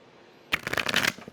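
Tarot cards are shuffled close by in one quick, crisp riffling burst lasting under a second, followed by a few soft taps.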